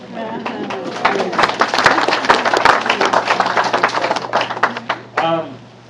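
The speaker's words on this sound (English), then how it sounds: "please give yourselves another round of applause." Dense clapping from a large audience at an organizational meeting swells and holds for several seconds, then tapers off before a brief burst of cheering near the end.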